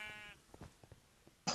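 A sheep bleats in Minecraft's Sheep Quest mini-game, one wavering call at the start, with soft game clicks and a bright blip closing it.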